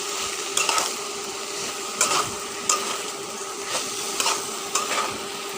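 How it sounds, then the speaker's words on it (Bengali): Steamed jackfruit is stirred with spices in a pan, bringing a low steady sizzle and repeated scraping strokes of a spatula at a slow rhythm, close and fairly loud, with no one talking. "এখন কাঁঠালটা দিয়ে আমি সুন্দর করে নেড়ে চেড়ে মশলা একদম মিক্স করে নিচ্ছি কাঁঠালের সঙ্গে।"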